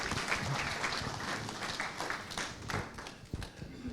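Audience applause at a community symposium on saving a local river, a steady wash of many hands clapping for the full four seconds at moderate level with no talk over it.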